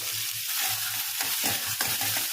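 Cumin seeds, chana dal and dried red chillies fry in hot oil, a steady close sizzle broken by the stirring scrape of a spoon against the pan.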